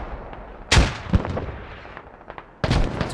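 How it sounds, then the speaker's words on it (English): Grenade blasts in the video game Squad, close-range exchanges: three sharp, loud booming bursts spaced about a second or two apart, each trailing off into rumble, with no talk over them. "Trading grenades at that range."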